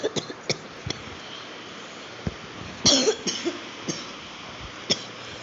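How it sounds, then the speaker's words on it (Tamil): A series of short, sharp coughs spaced irregularly, with one heavier, harsher coughing fit near the middle; close and fairly quiet otherwise. "இருமல்"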